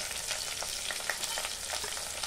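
Onion frying in a pan with cooked capsicum for chili paneer, a soft continuous sizzle with faint scraping as it is stirred, quiet and steady with no voices.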